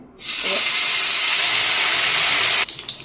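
Whole sarputi fish with roe hit hot oil in a pan and burst into a loud, steady sizzling hiss that holds for over two seconds, then drops abruptly to a quieter crackle.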